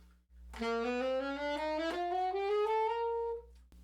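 A single instrument plays a chromatic scale over one octave, a steady run of about a dozen clear sustained notes stepping evenly upward, then a short silence.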